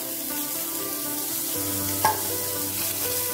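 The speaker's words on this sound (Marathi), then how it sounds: "तातूंत आमी कांदो मातसो तळसून घेवया।" Chopped onion fries in a little oil in a pan for a Goan Konkani recipe, giving a steady close sizzle with a single stirring scrape partway through.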